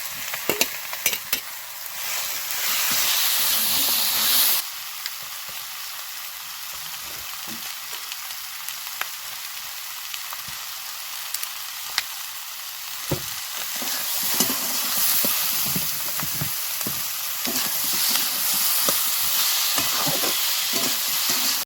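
Tomato, garlic paste and ginger-green chili paste frying in a pan for chicken kosha, a constant close sizzle with clattering stirring strokes; louder hiss early, easing after a few seconds then building again, no voices.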